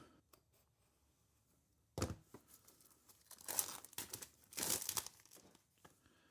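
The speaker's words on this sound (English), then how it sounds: "let's get this cellophane off" Cellophane wrapping being peeled and torn off a boxed Zerohawk EM1 enclosed green dot sight, with sharp crinkling and tearing bursts after a quiet start, close and alone.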